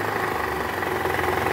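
A Toyota Camry 2.5 V 2500 cc engine idles roughly, with a diesel-like clatter and knocking blamed on a worn balancer shaft near the oil pan, a steady close-up drone that runs on without a voice over it.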